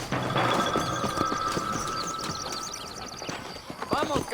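Horse hooves clip-clop in Red Dead Redemption in a brisk, irregular rhythm, with a horse's whinny near the end and voices talking over the hoofbeats.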